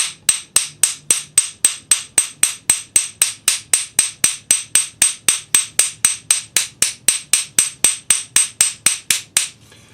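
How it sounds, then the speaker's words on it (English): A hammer's flat face strikes a metal cuff over a domed form in a steady, even rhythm, about thirty sharp ringing taps close up with no voices. "you're just going to use the flat side of the hammer"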